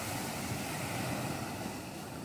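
Ocean waves rolling in and breaking with spray misting at the crest, a steady broadband wash with wind noise on the microphone, loud and continuous with no talk.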